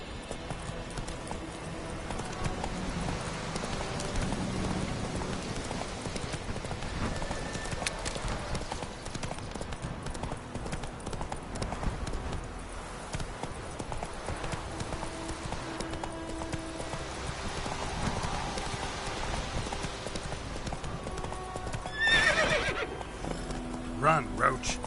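Roach the horse from The Witcher 3 galloping, hooves pounding in a fast continuous rhythm with a whinny near the end, under intermittent spoken dialogue.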